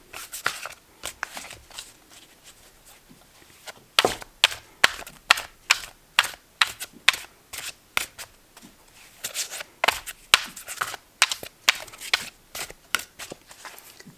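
Tarot cards being shuffled hand over hand, a steady run of crisp slaps and flicks in quick rhythmic bursts, close up with no talking.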